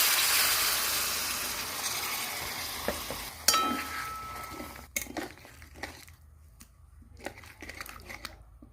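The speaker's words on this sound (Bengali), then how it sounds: "এবার আমি সামান্য একটু জল দিয়ে দেবো।" Water goes into food cooking in a pot over a fire stove: a loud hissing sizzle at first that gradually dies down, followed by scattered clinks and scraping of the pot.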